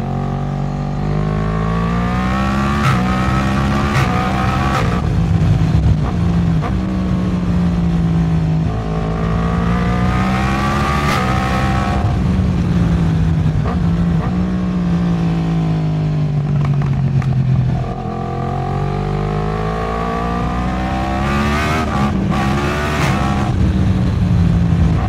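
A Yamaha MT-10 SP motorcycle engine revs hard as it is ridden, its pitch climbing and dropping through repeated acceleration pulls and gear shifts, loud and close for the whole stretch.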